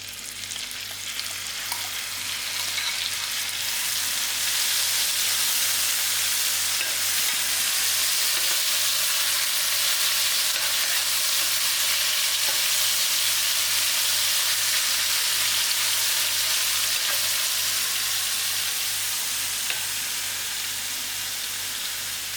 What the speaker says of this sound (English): Firstly, I'm going to give the prawns a quick fry.